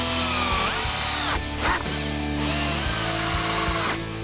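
A power drill drives screws into the wood of a homemade compost box, with several short whirring bursts, brief pauses between them and a faint ratcheting at the end, close and clear without talk.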